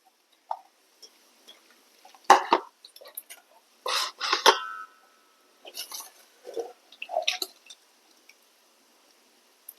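Wet squelching bursts and drips come in short, separate squeezes as water is wrung out of something soft, close up with quiet pauses between.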